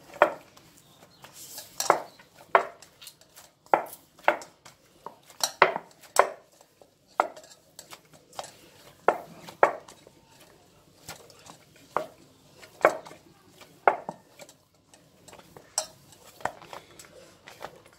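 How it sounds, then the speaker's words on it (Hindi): Masala mathiya dough being worked by hand with a spoonful of oil for a crispy Punjabi snack, giving soft, irregular squishing slaps and pats at close range, repeating steadily without speech. "इहनूं हुण चंगी तरह मलना आ।"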